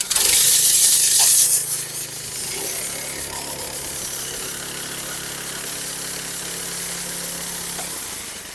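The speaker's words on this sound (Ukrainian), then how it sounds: "Оператор вже виставляє там ножі, як йому потрібно, і газує і починає процес роботи." A Barret KS90B power trowel for industrial concrete floors runs its petrol engine, first revved hard and loud for about two seconds, then settling into a steady, even drone that continues without speech.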